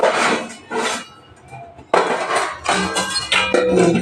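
Lid being put on a container of dosa batter, a few clattering knocks and scrapes of the lid, close and fairly loud, with a short quiet gap between bursts.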